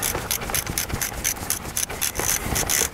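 A socket wrench works loose the oil drain plug on a 4x4, a rapid, evenly spaced ratcheting rasp of metal clicks repeating close up for several seconds.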